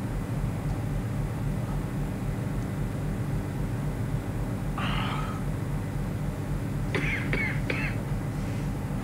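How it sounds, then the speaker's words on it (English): A burst of coughing, then a quick run of three sharp coughs, over a steady low rumble of background noise. "never seen someone knock themselves out just by coughing."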